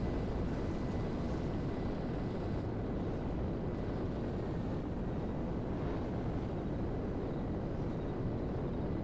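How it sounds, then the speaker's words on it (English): A jet aircraft engine in the GTA 5 video game roars as a dense, steady, low rumble that fills the whole stretch without pause, with no voices on top. "Oh, I'm hearing my jet."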